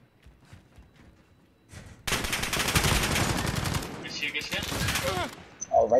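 Dense automatic gunfire breaks out in a video game gunfight, a loud, sustained fusillade of rapid shots lasting a few seconds with scattered bursts afterward, and players talk before and around it.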